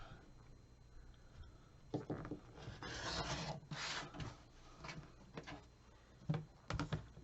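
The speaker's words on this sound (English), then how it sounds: "I'm going to take my rotary cutter and my ruler, and I'm going to cut them apart right on that line that I drew" Rotary cutter slicing fabric along a quilting ruler, with faint rasping rubs and soft scratchy strokes in short bursts, close but quiet.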